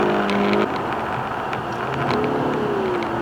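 A 314-horsepower Ford Mustang V6 engine drones and rises in pitch as it accelerates past 4000 rpm, a steady throaty hum with gear shifts audible, no voices.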